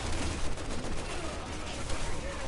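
Gunshots in Resident Evil 6, a dense, muffled stream of firing at moderate volume, steady throughout with no clear pauses.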